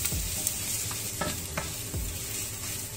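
Rice and onions sizzle steadily in a hot pan for a pilaf, with a spoon scraping and stirring through them in irregular strokes, close and moderately quiet, with no voices.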